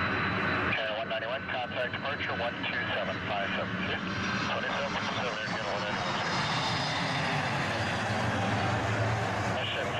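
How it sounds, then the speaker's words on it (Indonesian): A toy airplane engine sound drones steadily throughout, a broad continuous roar with chirpy voices and bright sound effects layered on top. "pesawat terbang."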